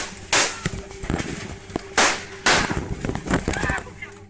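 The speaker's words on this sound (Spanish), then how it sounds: "sonando así los primeros disparos que desataron el caos en la transmisión" Several loud, sharp gunshots ring out during a livestream, irregularly spaced with sudden cracks, heard amid background noise and some voices.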